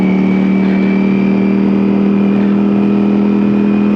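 A 2021 Ducati Streetfighter V4 motorcycle engine runs loud and close, holding a steady, droning mechanical tone with a buzzing edge for the whole stretch and no rise or fall.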